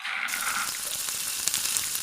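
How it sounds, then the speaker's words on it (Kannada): Peanuts crackle and sizzle steadily in hot oil for a tempering for hotel-style bisi bele bath, a dense, close, continuous frying hiss with small pops and no voices. "ಚೆನ್ನಾಗಿ, ಕಡಲೆಬೀಜ ಸ್ವಲ್ಪ ಫ್ರೈ ಆಗಲಿ."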